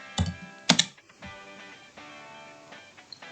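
Typing an SQL ALTER TABLE command on a computer keyboard: a couple of loud, close keystroke bursts at the start, then softer, sparser taps trailing off.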